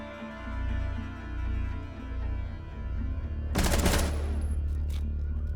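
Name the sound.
gunfire in Rainbow Six Siege video game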